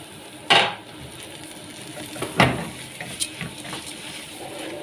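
Rice stirred with spices, honey and grated onion sizzles steadily in a pan, with a few sharper scrapes and clinks of a spoon against the metal.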